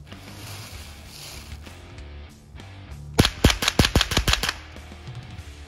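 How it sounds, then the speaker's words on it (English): A Savage 64F rifle firing about eight quick shots into a wet bag of concrete, sharp cracks in a fast irregular burst after a few seconds of quiet outdoor ambience. "I'm just going to rapid fire dump into that little bag of concrete that got a little too wet."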